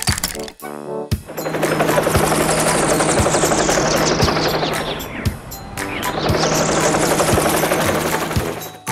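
Helicopter flying past, its rotor chopping in a loud, steady thump with a whining pitch that sweeps down as it passes close, then rises again, after a short burst of other sounds at the start.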